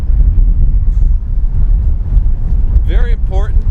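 Strong wind buffets the microphone on a boat during weed-bed fishing for pike, bass and crappie, a loud, continuous low rumble, with a brief voice-like call near the end.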